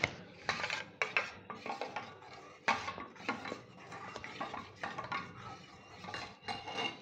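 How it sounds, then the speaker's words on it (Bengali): A spoon stirs a chilled drink in a glass or pot, giving repeated close metallic clinks and scraping taps in an uneven rhythm, with no talking. "এটা ভালো করে গুলিয়ে নিতে হবে।"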